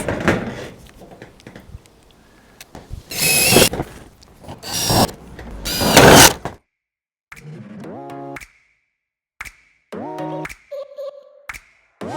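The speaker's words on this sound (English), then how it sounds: "these screws will just go straight through into the panels that we'll just put onto the roof" Building a metal garden workshop: clattering handling of metal roofing comes first, then a power screwdriver drives screws into the metal roof panels in several short, rising motor whines with quiet gaps between them.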